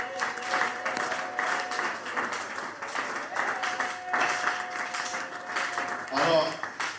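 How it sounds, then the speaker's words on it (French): A church congregation applauds and cheers at a French-language worship service, with sustained clapping and crowd noise, a voice speaking over it and a brief loud burst of cheering near the end. "Tu peux acclamer pour ce cri de joie?"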